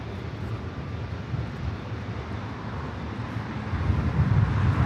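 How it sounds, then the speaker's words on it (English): An EVA Air airliner on a north-side takeoff at LAX, bound for Taipei, heard as a steady distant jet roar that swells louder toward the end, with no talking. "Eva heading over here for a north side takeoff,"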